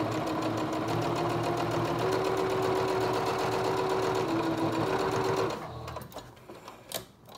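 A sewing machine runs a continuous fast stitching whir while sewing a fabric face mask, loud and close with a steady motor hum, then stops abruptly, leaving a few faint handling clicks.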